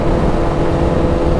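A 2021 Honda CBR1000RR-R Fireblade SP fitted with an aftermarket Akrapovič exhaust, giving a steady, loud, close engine roar that holds even throughout with no voices over it.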